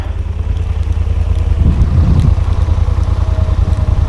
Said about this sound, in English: I hear a Snowcat over there.